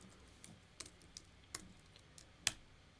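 Computer keyboard typing, a handful of sparse, separate key clicks spread irregularly over a few seconds, the last one sharper and louder, with no talking.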